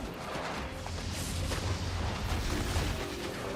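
Grenade barrage in an action video game, a steady rumbling run of overlapping explosions and low booms at moderate loudness, no talking.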